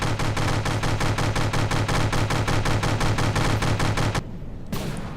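Sustained rapid gunfire and blasts from the From The Depths game, a dense, regular stream of loud shots lasting about four seconds before cutting off, then one more short burst.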